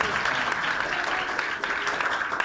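A church congregation claps continuously and loudly throughout, with dense, even applause and no clear gaps.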